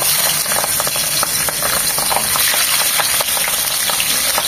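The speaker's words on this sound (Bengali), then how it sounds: "তেলটা গরম হয়ে এসেছে, এখন পাবদা মাছগুলো দেব।" Pabda fish frying in hot soybean oil hiss in a loud, dense, continuous sizzle close by, with crackling pops and a few light scrapes throughout.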